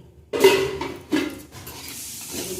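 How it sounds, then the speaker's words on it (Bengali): A metal lid lifted off a pot of cooking spicy semolina with potato and carrot, a sharp close clank followed by a second softer clatter, then a low lingering rustle. "এখন ঢাকা খুলে দেখবো"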